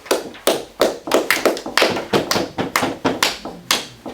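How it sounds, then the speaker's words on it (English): Applause for Eric Weiss as he is welcomed up to give a talk, heard as a close, loud run of about a dozen sharp, evenly spaced claps, more like one person clapping than a full crowd. "That applause was amazing."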